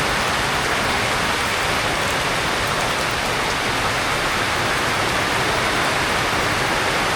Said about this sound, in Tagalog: Buong gabi na naman ulan yan.